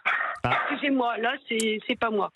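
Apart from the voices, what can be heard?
dog barking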